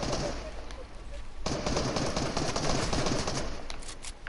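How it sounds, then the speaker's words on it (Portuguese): Gunfire in a video game, a steady stream of rapid shots from another player firing without pause, loud and continuous after a brief quieter start, with a faint voice underneath. "tem um cidadão que tá atirando como se não houvesse amanhã"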